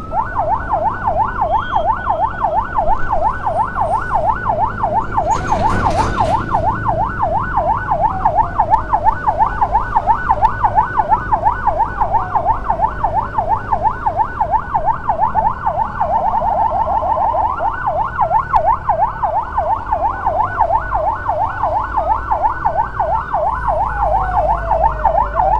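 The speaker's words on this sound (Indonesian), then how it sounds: "ambulan emergency di belakang, terima kasih." A loud wailing ambulance siren sweeps rapidly up and down without pause, with traffic rumble beneath and a brief sharp clatter early on.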